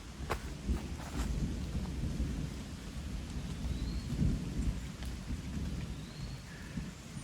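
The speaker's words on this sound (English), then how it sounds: "Hear the thunder in the distance." Steady rain hisses over a wooded hiking trail while low rumbles of distant thunder swell and fade beneath it, a few sharper drops or rustles standing out, with no talk.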